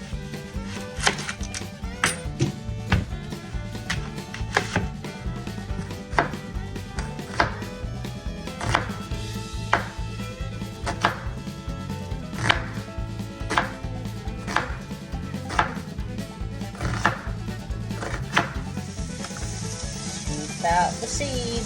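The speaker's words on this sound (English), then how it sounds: "Let's get to chopping." Knife chopping vegetables on a cutting board for spicy chunky chicken chili, a steady series of sharp close taps at irregular intervals over a low background hum.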